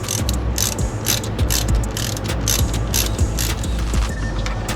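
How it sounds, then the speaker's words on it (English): Ratchet wrench clicking steadily as brake pad bolts are tightened on a Honda Goldwing DCT rear parking brake, a close, continuous run of rapid mechanical clicks with no talk. "you want to tighten these back down to 23 foot-pounds"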